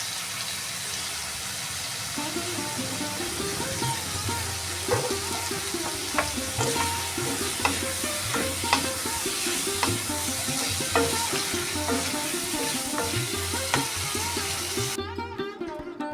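An eggplant, prawn and potato curry is stirred and fried with spices in a pan, giving a continuous loud sizzle with repeated scraping strokes of a spatula. No one speaks.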